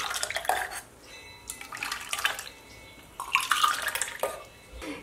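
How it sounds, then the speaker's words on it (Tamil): Liquid for homemade popsicles is poured back and forth between tumblers to cool it, producing several short splashing, trickling pours separated by brief pauses, close by. "இது நல்லா டம்ளரில் ஆற்றிடலாம்."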